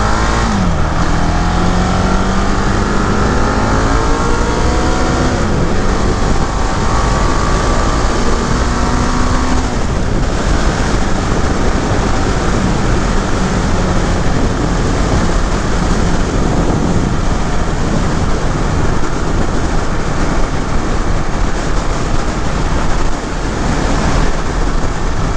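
A 2018 KTM 690 Duke ridden on a fast demo ride, engine roaring loud and continuous under heavy wind rush, with rising revs and gear changes sweeping up and down.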